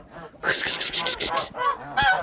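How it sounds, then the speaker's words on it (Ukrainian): Several geese honk loudly and close by in a rapid burst of harsh, nasal calls, followed by a few more honks after a short pause. "Гуси! Гуси!"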